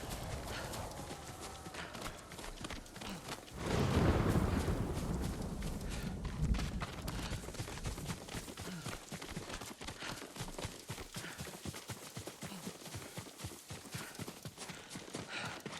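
Horse hooves clip-clop in a fast, steady galloping rhythm in the video game Ghost of Tsushima, close and clear, with a brief louder rush partway through.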